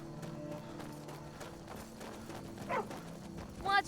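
A stray dog in the video game Skyrim gives a couple of short barks and yips over busy game ambience, with voices talking at the same time.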